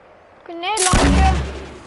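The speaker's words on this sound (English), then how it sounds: "Grenade launcher. Okay, just wait and see the loot." A grenade launcher firing in a video game: one loud, booming blast with a rising whine before it and a deep rumbling tail fading out.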